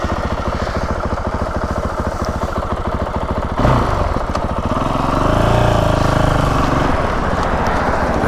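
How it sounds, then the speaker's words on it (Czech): A new motorcycle is ridden at speed, its engine droning loudly and steadily with a rapid, even pulse, then shifting to a smoother higher tone partway through, all under rushing wind with no voices. "budeme poslouchat zvuk motorky nějakou dobu."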